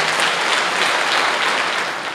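A crowd applauds at a folk festival in Putna, with dense, even clapping that holds steady for a couple of seconds and then begins to fade.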